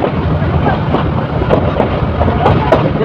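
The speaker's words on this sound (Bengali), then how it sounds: "ট্রেনটি ভৈরব বাজার মেঘনা সেতুতে প্রবেশ করেছে" A local train rolls onto the Meghna bridge at Bhairab Bazar, heard from inside as a steady low rumble with wind buffeting and a few sharp metallic clanks scattered through.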